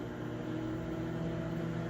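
A microwave oven, controlled through a smart power strip, hums steadily while it runs, a low, even drone with a faint mechanical buzz and no pauses.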